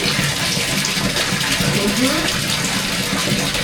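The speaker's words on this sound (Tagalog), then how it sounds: "Ito yung pang-mixing namin sa tubig pag nalagyan na namin ng tawas." Water being stirred and mixed by hand after alum has been added for clearing, a steady loud sloshing wash that runs without break, close up.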